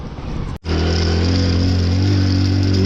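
A motorcycle engine drones loud and close through a water crossing, briefly cutting out before a steady, strained running roar returns.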